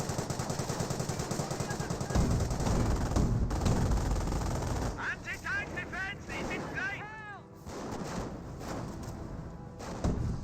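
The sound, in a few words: gunfire in Company of Heroes video game battle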